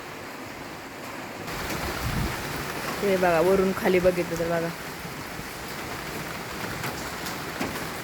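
Heavy monsoon rain pours steadily in Pune, a dense continuous wash of noise that rises slightly around the middle. Someone talks briefly over the downpour.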